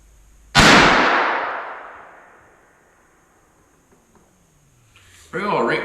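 A single loud rifle shot from a Savage Arms Model 2 chambered in 22-250, sharp crack followed by a long decaying echo rolling across open ground; a voice begins talking near the end.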